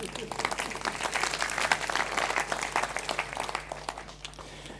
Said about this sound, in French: Il mérite vos applaudissements.